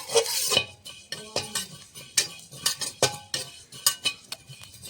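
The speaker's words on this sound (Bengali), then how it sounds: "শুকনো খোলাতে জিরে ভেজে নেব কটা।" A metal utensil scrapes and stirs cumin seeds dry-roasting in a dry pan, with quick repeated strokes and light clinks and no talking.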